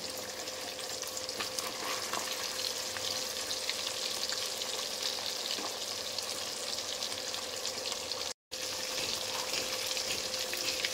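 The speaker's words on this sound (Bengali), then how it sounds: "তো আমার এক পিঠ করে মাছটা ভালো করে ভেজে নিচ্ছি।" Pomfret fish fries in hot oil over high heat, a steady, dense crackling sizzle heard up close and continuing without pause, with one brief cut near the end.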